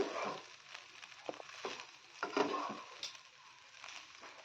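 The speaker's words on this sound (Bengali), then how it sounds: "এবার নেড়ে চেড়ে সুন্দর করে ভেজে নিতে হবে" Flattened rice (chira) tossed with peas and peanuts in a pan for sweet poha, giving a soft steady sizzle with scraping stir strokes and small clicks throughout.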